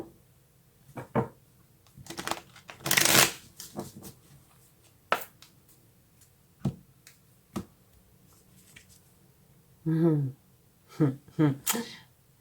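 Tarot cards being shuffled and handled by hand give a series of crisp, close snapping and riffling bursts spread irregularly, with a voice talking between them.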